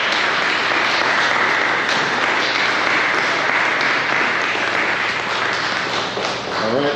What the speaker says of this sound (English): a round of applause for the GSAR class of